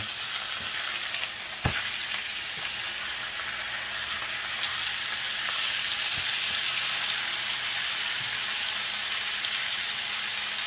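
Steak fries in a hot pan with a loud, dense, continuous sizzle and hiss, a couple of faint knocks as pieces are flipped, and no speech.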